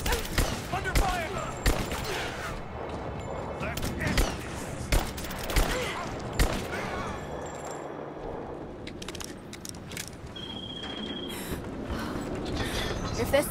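Gunfire in Rise of the Tomb Raider, with bursts of sharp shots and rattling mechanical clicks mixed with busy game effects, loud and close, while someone talks over it.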